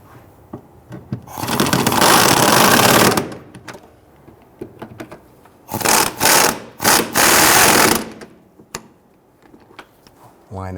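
A ratchet tightening the fuel tank strap bolts on a 2006-2012 Toyota RAV4 with the 3.5L V6, giving loud, close bursts of rapid ratcheting: one long run, then several shorter runs separated by brief pauses.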